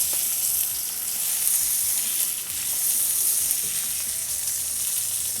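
Fish coated in masala sizzles steadily on a hot griddle stone, a dense, even frying hiss that holds for several seconds with no voices over it.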